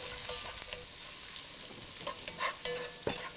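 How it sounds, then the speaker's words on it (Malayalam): Onions fry with garlic and salt in a pan, giving a steady soft sizzle with a few scraping stirs and light clinks of a utensil, fairly quiet and close. "വെളുത്തുള്ളി, ആവശ്യത്തിന് ഉപ്പ് എന്നിവയിട്ട് വഴറ്റുക"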